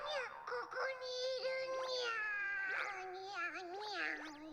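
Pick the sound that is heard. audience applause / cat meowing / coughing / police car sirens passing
cat meowing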